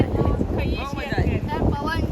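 Gusty seaside wind buffeting the microphone outdoors, rumbling under people talking nearby, with waves coming in behind.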